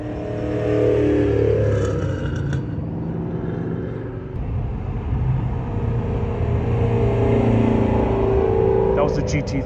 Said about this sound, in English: That was the GT350 again.